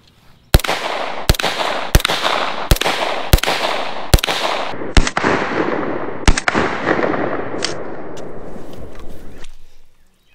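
Rapid gunshots fired at a watermelon target with a pistol wearing an Olight Osight 3 MOA green dot reflex sight, loud sharp cracks in a quick series of about nine shots with ringing tails, no talking.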